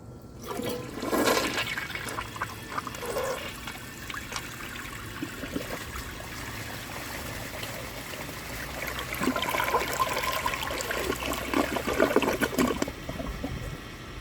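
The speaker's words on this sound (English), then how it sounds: "I'll be back for a second flush" A 1991 Kohler Wellworth toilet flushes up close: a sharp rushing gush at the start, then steady swirling drain and refill water running and trickling for over ten seconds.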